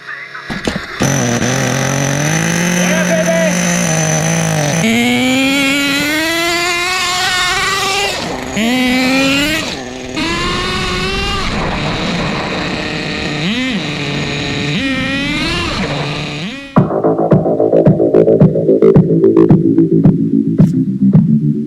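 A restored 2000 Duratrax Nitro Quake RC truck with a TORQ 21 big-block nitro engine fires up and runs loud and close, a high buzzing whine that revs up and down in wavering sweeps, then settles into a rougher, throbbing idle.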